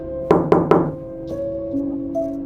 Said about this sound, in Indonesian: Suara ketukan itu muncul lagi. Lebih pelan, tapi lebih teratur.